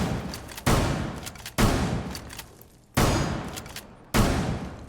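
Gunfire in Rainbow Six Siege, shooting at a reinforced floor: four loud, close bursts with sharp onsets, each decaying slowly before the next, spaced about a second apart.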